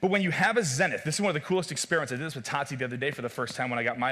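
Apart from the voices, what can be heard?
No everyday noise stands out behind the speech.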